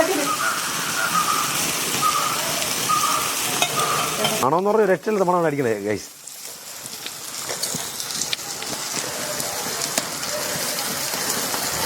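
Freshwater pond clams fry on a hot dosa griddle with a loud, steady, close sizzle and crackle throughout, briefly interrupted midway by a short voiced sound before the hiss resumes.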